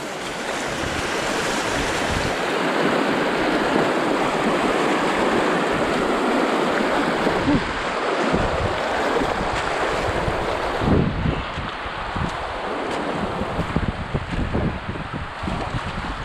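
A river rushes alongside a roadside hiking trail on the Great Divide, a dense, continuous roar of flowing water mixed with gusty wind buffeting the microphone.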